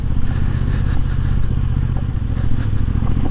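A Moto Guzzi V85 TT motorcycle on a green-lane trail ride, its engine thrumming loudly and steadily up close with a throbbing mid-pitched beat and some clattering, no voices.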